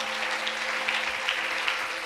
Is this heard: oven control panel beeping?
no